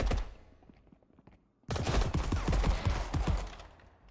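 Gunfire in the shooter game Marauders: a few scattered shots, a brief near-silent gap, then a loud, dense fusillade of rapid close shots that slowly thins out.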